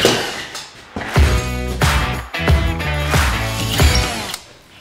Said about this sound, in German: ich arbeite hier mit dem Flex Trockenbauschrauber